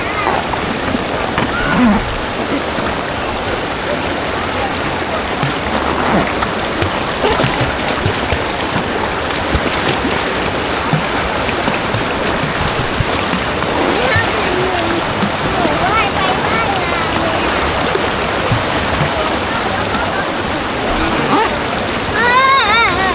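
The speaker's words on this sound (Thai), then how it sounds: "น้ำตกสวยจัง" A waterfall at an orchard rushes in a steady, loud broadband wash of falling water that never lets up, with voices chattering over it now and then.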